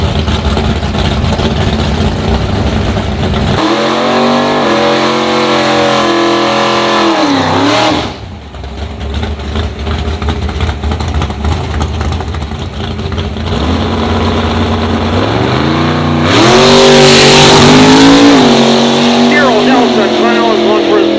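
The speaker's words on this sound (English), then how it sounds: "Final is going for his fourth pass today for his license drum. 66 Ford Fairlane, 427 cubic inches." A 1966 Ford Fairlane with a 427 cubic-inch V8 makes a drag strip pass: a loud idle, then hard revving acceleration through rising gear pulls, a brief drop, and a roaring launch, with a voice speaking over the engine.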